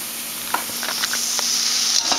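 Chopped eggplant sizzling and frying in a pan with garlic while vegetarian burrito filling is prepared, a steady close hiss broken by a few soft stirring scrapes, no talking.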